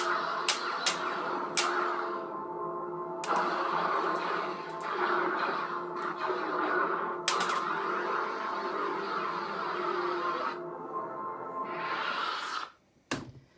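A Bastila-style lightsaber sound font on an Inspira Designs ID4, modeled on the Knights of the Old Republic game: a steady electric hum drones throughout, broken by sharp whooshing swings and clashing crackles that surge and fade, before cutting off abruptly near the end.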